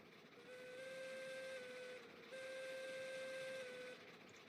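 Steam locomotive whistle in the Railroads Online game, blown in two long steady blasts with a brief gap between, clear and fairly loud over a low rumbling engine background.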